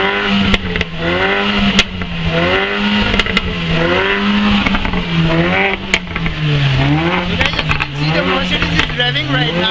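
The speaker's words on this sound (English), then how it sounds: "You can see the Mercedes is revving." Mercedes engine revving loudly in a street lineup of supercars in Kolkata, a sustained wavering roar that climbs and dips repeatedly, with voices and crowd noise around it.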